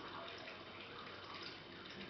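Water from an absinthe fountain valve trickles onto a sugar cube and through a slotted spoon into a glass, a faint, steady splashing trickle with no voices.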